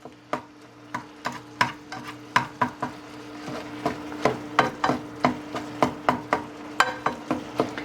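Lean ground beef, 95% lean, cooks in a pan while a utensil scrapes and taps against it in a steady rhythm of sharp knocks over a faint sizzle.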